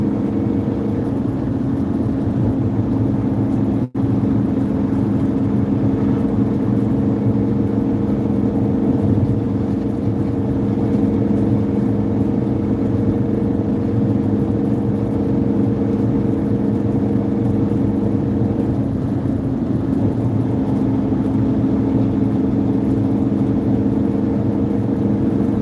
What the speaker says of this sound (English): idling in this van right now is not the best